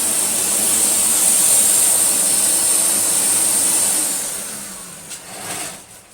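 A Philips Triathlon 1300 wet and dry vacuum cleaner runs steadily with a loud, even whine and rushing airflow that holds for several seconds, then eases and wavers slightly near the end.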